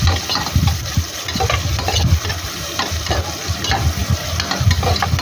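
Onions with ginger and garlic paste are sautéed and stirred in a pan for a country chicken curry, giving loud, close sizzling with rhythmic scraping and clattering of the spoon.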